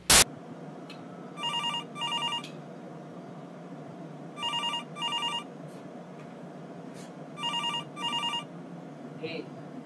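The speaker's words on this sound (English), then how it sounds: "Hey, the phone is ringing." A telephone rings in repeated paired electronic trills, three double bursts spaced evenly over a quiet background, heard alone after a sharp opening click.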